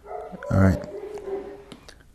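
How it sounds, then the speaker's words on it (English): Dog barking indoors, one short, fairly close bark sounding while someone speaks a few words. "My apologies for the dog barking."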